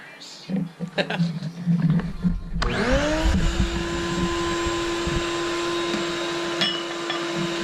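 A vacuum cleaner starts up in a welding workshop and runs as a steady, loud whine with a constant motor tone, following earlier clatter and some speech.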